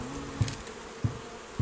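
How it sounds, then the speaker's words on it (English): Bees around a beehive in Jamaica, a soft steady hum with three low thumps spaced evenly apart, no voices. "I think he's gonna put all the bees"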